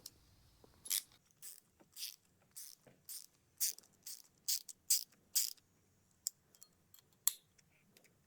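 An Allen wrench tightening the bolt on a Picatinny-style GoPro trail sight mount, giving a run of close, dry metallic clicks and scrapes in short bursts that fade into a few sparse ticks.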